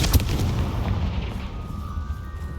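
A Confringo fire spell in Hogwarts Legacy lands as a sharp blast at the start, followed by a low rumbling roar that fades slowly, with no voices.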